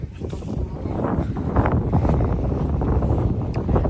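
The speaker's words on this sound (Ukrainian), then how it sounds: "такий вітер, що нічого зняти не можна" Heavy wind buffets the microphone with a continuous low roar and rumbling gusts, close and loud throughout.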